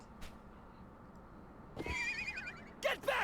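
A horse neighs in the Wild West chapter of the video game Live A Live, a loud wavering whinny followed by brief snorts, heard alone over quiet background noise.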